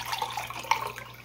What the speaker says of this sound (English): I'm gonna put some water just to rinse out my